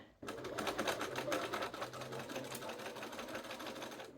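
A sewing machine running a 2.5 mm straight stitch along a slightly curved yoke seam on a duster jacket, a close, continuous mechanical whirr that starts abruptly and holds steady for about four seconds.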